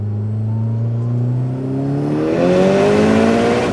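An Eagle Talon pulls hard through second gear, its engine note rising steadily in pitch as it accelerates, loud and close throughout with no talking over it.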